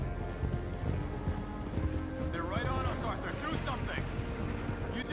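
Horse hooves clip-clop in a galloping rhythm in Red Dead Redemption 2, steady and fairly close, with a brief whinny or vocal sweep in the middle and game ambience around it.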